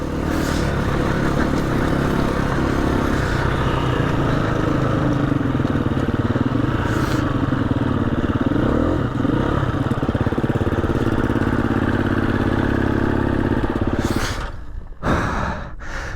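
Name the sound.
dirt bike motorcycle riding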